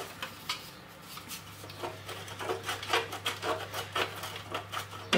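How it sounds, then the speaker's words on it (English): Frozen butter rasped against a metal grater over flour scone mix, a soft, rhythmic scraping of repeated short strokes that grows slightly louder and faster, heard close and quiet without talk. "And then the secret is to grate your butter"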